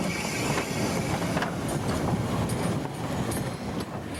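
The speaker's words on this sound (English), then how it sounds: "engine number 27 backs down and couples up to our train" Locomotive number 27 backs down onto a waiting passenger train and couples up, a steady loud rumble with scattered clanks and a faint hiss throughout.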